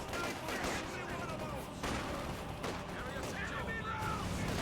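Machine-gun fire and artillery in a Company of Heroes 2 battle between OKW and Soviet forces, a dense, continuous barrage of gunshots and explosions filling the whole stretch, loud and close with no pause.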